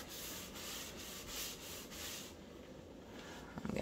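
Conditioner is rubbed by hand into the wood of an old Globe Wernicke barrister's bookcase, a close, steady scuffing with rhythmic strokes that slow toward the end.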